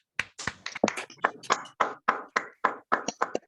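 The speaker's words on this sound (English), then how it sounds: "please unmute yourselves and give a big hand of applause for Satish ji for his wonderful presentation" Online meeting participants applauding a presentation: sparse, uneven claps and taps from a few unmuted microphones, about a dozen distinct hits coming through separately and fairly close.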